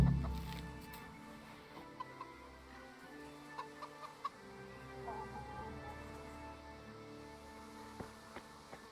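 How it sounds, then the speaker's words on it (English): Chickens cluck and peck in the Kingdom Come: Deliverance video game, with soft scattered clucks and small clicks over a quiet hum, fairly faint and close. "Feed the chickens."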